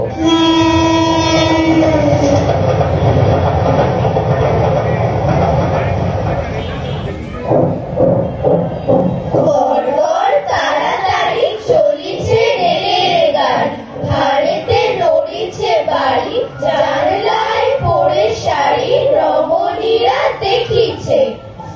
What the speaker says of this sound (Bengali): রেলগাড়ি তার গতি বাড়িয়ে হয়েছে আরো দুরন্ত